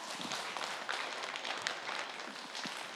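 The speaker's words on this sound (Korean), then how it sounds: "여러분 박수로 청해 듣겠습니다" Audience applause for a singer at a Catholic book concert, a steady dense wash of clapping from a crowd that holds at an even level throughout, with no voices over it.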